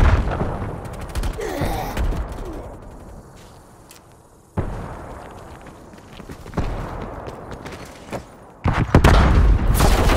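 Grenade explosions and gunfire in multiplayer Call of Duty Black Ops Cold War, with sharp bursts and booms scattered across a busy battle, loud blasts cutting in near the middle and end amid ongoing shooting.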